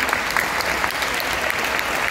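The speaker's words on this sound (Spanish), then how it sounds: "un fuerte aplauso por favor para él." A concert crowd at a live performance in the front row applauds strongly, a loud, dense and unbroken roar of clapping from close by.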